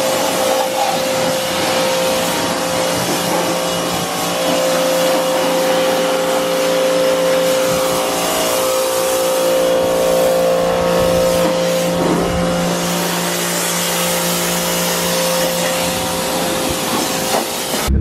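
A Toyota Supra fitted with a Tomei exhaust revs close by, giving a loud, continuous, raspy engine roar that holds steady for the whole stretch with no talking.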